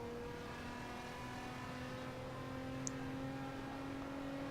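A car engine drones steadily in the Assetto Corsa racing game, a faint, sustained tonal hum with slowly shifting pitch and one brief high click, no voices present.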